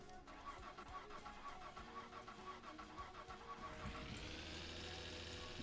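A car in the My Summer Car video game, with ignition switched on: a ticking, cranking mechanical rattle that catches and settles into a steady low engine hum, moderately close with no voices.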